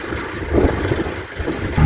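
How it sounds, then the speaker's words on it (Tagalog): Strong wind on the northernmost coast of Luzon, Philippines, buffets the microphone, a steady roaring rush with gusty low rumbles rising and falling throughout. "Ang lakas pala ng hangin dito kaya pala may windmill."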